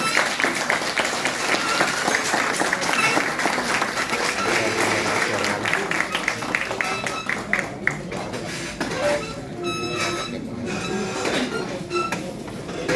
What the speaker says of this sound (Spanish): Lo recibimos con ese gran aplauso.